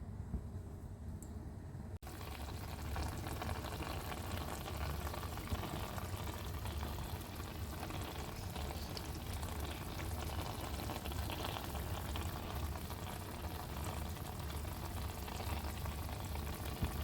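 Bele fish curry with slit green chillies simmering in a pan, a steady soft bubbling and sizzling that starts after a brief quieter moment and continues evenly and close throughout.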